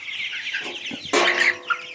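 Colour bird chickens cluck while being weighed, a few short, close, nasal clucks and squawks with a louder burst near the end.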